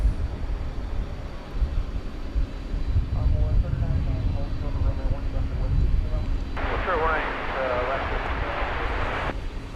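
An Aerologic German cargo plane at DFW airport at night gives a distant low rumble of engines that swells and fades, with a brief brighter roar near the end and a voice talking over it.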